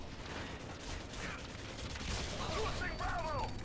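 Gunfire in the video game Modern Warfare 2, an M4 with ACOG scope in the match: a steady stream of shots runs the whole stretch under a busy, noisy mix, with a few short bright tonal chirps near the end.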